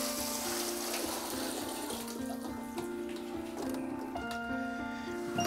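Tap water runs steadily into a tank at home, a continuous splashing flow with a faint tonal hum beneath it, close and fairly loud throughout.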